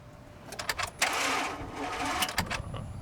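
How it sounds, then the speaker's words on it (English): A GMC Sierra with a 6-liter engine, its battery run down after the key was left on all night, cranks without starting: irregular, close mechanical bursts and grinding, with no voices. "Got this GMC Sierra. Thing's got a 6-liter. Hit the key."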